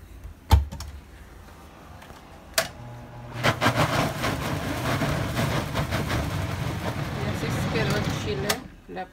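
A kitchen blender grinds chili with tripe, onion, garlic and water for menudo, starting with a couple of clunks, then a loud steady whirring roar for several seconds before it cuts off.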